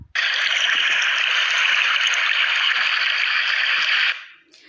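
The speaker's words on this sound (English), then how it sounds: "So this is the lapping of the water." Lake water washing in a steady, even rush for about four seconds, fairly loud and unbroken, then cutting off abruptly near the end.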